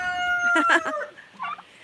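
Chickens on a farm on a chilly morning give a run of near clucks and squawks, with a short crow-like call in the middle and softer clucking after it; no speech.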